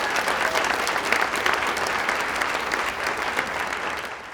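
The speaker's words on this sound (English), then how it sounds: "A round of applause for yourselves for coming out." A comedy club audience at a stand-up special gives sustained, dense applause, loud and close, a steady wash of many hands without pause for several seconds.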